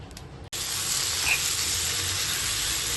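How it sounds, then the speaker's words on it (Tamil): Prawns frying in hot coconut oil for Chettinad prawn thokku give a steady, loud, close sizzle that carries on without a break after a brief cut at the start. "நல்லா எண்ணெய் காஞ்சதும் ஃபர்ஸ்ட் இந்த ப்ரானை இதில் வறுத்தி எடுத்துக்கலாம்"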